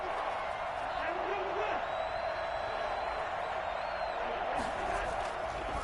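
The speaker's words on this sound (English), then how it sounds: "the crowd getting into it as we come up on a big 3rd down" A football stadium crowd roars steadily ahead of a big third down in a game against the Colts. The broad, sustained crowd noise sits under a commentator's voice, with a few sharper cheers near the end.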